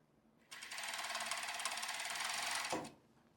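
An overlock sewing machine stitches a chain stitch on skirt fabric, a rapid mechanical whirring that starts abruptly, runs loud and even for a little over two seconds, then stops.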